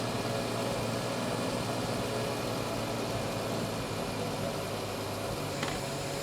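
A 1973 Triumph TR6 engine idling at lowered RPM during a tune-up, with a steady low rumble and hum, close and continuous.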